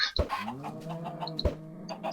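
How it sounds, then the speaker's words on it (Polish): Minecraft chickens cluck in short soft bursts, two sharper clucks standing out over a quiet in-game background, with no talking. "Kurczak."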